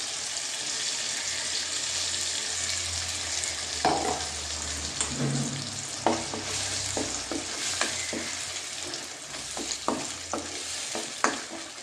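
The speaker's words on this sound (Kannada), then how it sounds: "ಇದನ್ನು ಚೆನ್ನಾಗಿ ಫ್ರೈ ಮಾಡೋಣ. ಮಸಾಲೆ ಹಾಕ್ತಿದ್ದೇನೆ." Fish in masala, Mangalore-style sardines, fry in a pan with a steady close sizzle, broken by stirring scrapes and sharp spatula taps that grow more frequent toward the end.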